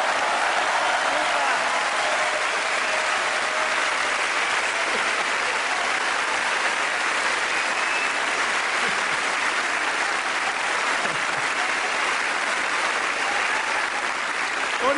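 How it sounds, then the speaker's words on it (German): Sustained, dense audience applause in a circus ring, a steady wash of many hands clapping at an even level for the whole time, filling the space without pause. "Ein Applaus an beide Herren."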